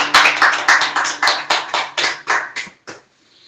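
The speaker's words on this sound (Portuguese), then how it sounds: "Pode dar um aplauso ao Senhor Jesus." A congregation at a home church worship meeting applauds in a quick burst of overlapping claps that rises, then thins out to a few last claps before falling silent.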